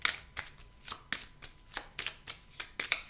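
Tarot cards shuffled by hand, a quick run of crisp riffling flutters repeating in an uneven rhythm, close and fairly quiet.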